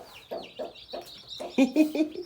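Newborn chicks cheep and peep in quick, high-pitched bursts, with a few louder clucking notes from nearby fowl mixed in.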